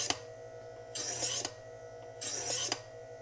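A knife blade drawn through a TER electric knife sharpener gives two rasping, grinding pulls over the steady hum of the motor, each about half a second long and close by.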